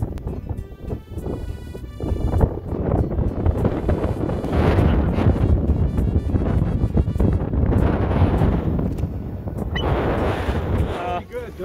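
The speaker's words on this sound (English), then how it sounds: "but it was very, very windy." Strong wind buffets the microphone with a constant loud roaring rumble that surges and eases, fairly close throughout.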